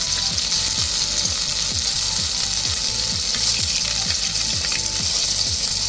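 Garlic cloves frying in oil for a Maharashtrian green pea thecha give a steady, loud sizzle, with a pan being stirred in frequent soft clicks and scrapes throughout.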